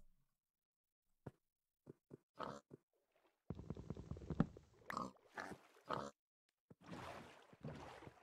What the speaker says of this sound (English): Pigs! Shush!